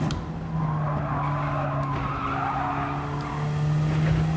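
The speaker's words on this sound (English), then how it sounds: "The car really slides around a lot." A race car slides and skids through turns in a racing video game, tires squealing steadily over a constant engine drone, loud and close with no talking.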